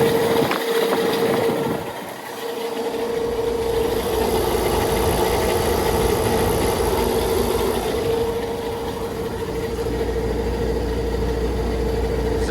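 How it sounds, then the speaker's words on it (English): A 2006 Rheem 5-ton central air conditioner runs with a noisy condenser fan motor, giving a continuous close whir and drone with a steady tonal hum and a slight dip in level near the start. "Here's the 2006 Rheem, the noisy fan motor."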